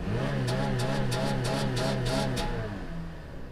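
The engine of a lifted OBS Ford truck with 194,000 miles idles unevenly close by, a lumpy low rumble with rhythmic pulsing surges and faint periodic ticking, tapering slightly toward the end.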